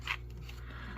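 A single quick snip of scissors cutting open an MRE food pouch near the start, followed by a low steady hum in the background.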